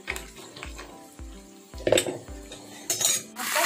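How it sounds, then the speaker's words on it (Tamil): Ginger, garlic, pepper and cumin sauté in ghee in a pan, a soft sizzle broken by repeated clinks and scrapes of a metal spoon against the pan, close and without speech. "கொஞ்சம் வதக்கிக்கோங்க."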